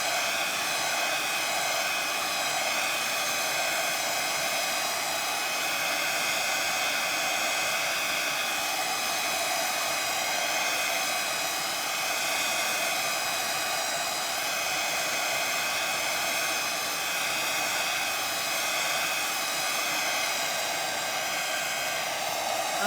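A hair dryer blows steadily on a decoupage paper planter, a loud, unbroken whooshing hum that holds the same pitch from start to finish with no voices over it.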